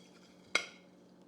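A single soft clink of a serving utensil against a plate as baked macaroni and cheese with a browned crust is dished out, one brief tap that fades quickly in a quiet room.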